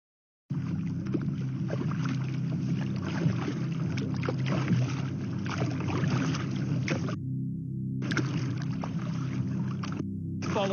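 Small boat paddled across water while a great white shark follows behind, steady sloshing and water noise with wind buffeting the microphone, continuous and close, broken by a short gap near the end.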